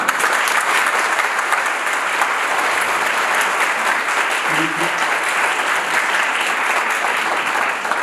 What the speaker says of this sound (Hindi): एक बारी बजा के दिखाइए।